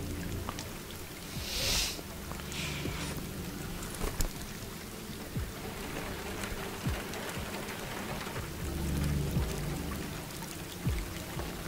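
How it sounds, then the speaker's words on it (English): Rain falls in the video game Detroit: Become Human, a soft, continuous patter and hiss on surfaces throughout, with scattered brief ticks and splashes and no voices. "Don't think you expected rain."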